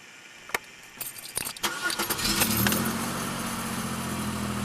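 A high-mileage car at about 131,500 miles jangles its keys, then the engine cranks and catches, settling into a loud, steady idle close by.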